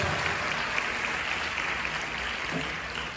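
Congregation clapping during a church service, a dense, steady wash of hands at moderate distance with no speech over it.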